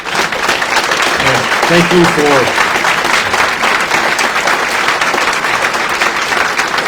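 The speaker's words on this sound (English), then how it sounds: "We want to give you a round of applause" Applause fills a hall at a military graduation ceremony as a dense, loud, continuous wash of clapping, with a voice briefly speaking over it early on.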